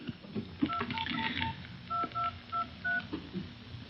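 A cellphone plays a quick series of dialing keypad tones, short evenly spaced beeps in two bursts, over a faint murmur of background noise in a drama scene.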